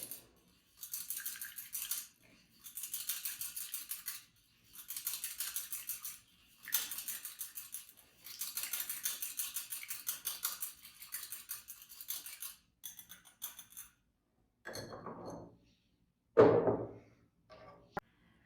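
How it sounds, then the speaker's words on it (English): Whisk beating oil into a French salad dressing in a bowl, heard as quiet bursts of rapid scraping strokes separated by short pauses, followed by a couple of clinks and a knock near the end, with no voices. "you want to whisk it in there pretty well because you want to make sure that there's no separation of the oil and the rest of the mixture"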